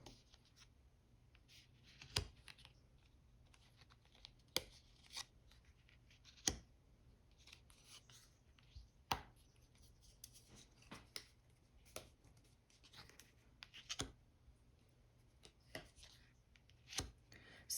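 New Lenormand cards being gently handled and flexed to loosen them, giving soft papery rustles and sharp scattered snaps every second or two in a quiet room, close and faint.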